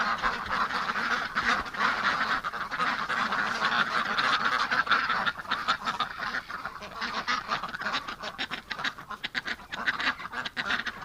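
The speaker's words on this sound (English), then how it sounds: "Some gorgeous looking ducks, guys." A flock of ducks quacks continuously in a winter setting, many birds calling over one another in a dense, steady chorus, with sharper individual quacks breaking through toward the end.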